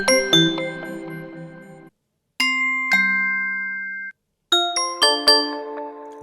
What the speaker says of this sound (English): The last thing you want to set up is your doorbell sounds.